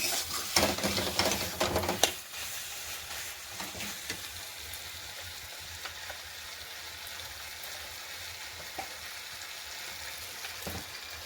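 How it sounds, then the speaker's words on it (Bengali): Masala paste fries in a pan while being stirred, with a louder burst of sizzling and scraping at first, then a softer steady hiss broken by occasional spoon clinks, close by and without talk. "এদিকে আমরা ভালো করে মশলাটা কষিয়ে নিচ্ছি"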